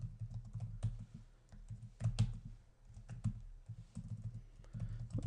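Soft keyboard typing comes as a quiet, fairly steady patter of clicks close by, over a low background hum with no talking.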